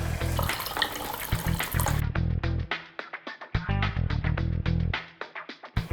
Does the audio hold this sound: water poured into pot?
yes